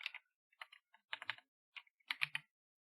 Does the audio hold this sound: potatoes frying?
no